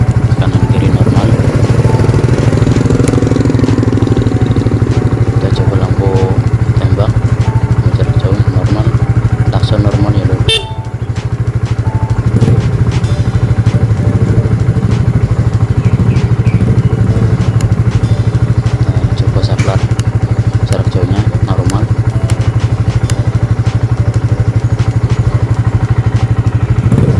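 An old Yamaha Vixion motorcycle engine idles steadily and close up throughout, a constant low hum with a brief dip partway through and light mechanical clatter.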